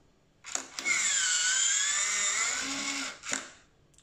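A smart lock's small motor whirs steadily for about three seconds as it drives the bolt shut on a rental door, starting and stopping with soft clicks and heard up close without talk.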